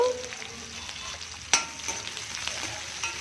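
Cumin and finely chopped onions fry in hot oil in a kadai, a dense steady sizzle close by with a sharp clack of a spoon partway through and soft stirring scrapes after.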